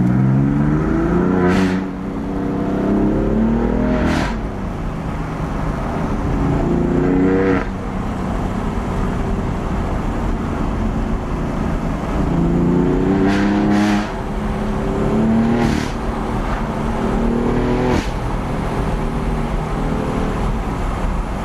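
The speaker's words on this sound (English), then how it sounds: "This car sounds absolutely insane." A BMW F82 M4 engine with an Eisenmann sport exhaust revs hard through repeated acceleration pulls, rising in pitch, with sharp pops and crackles from the exhaust between shifts, loud and close.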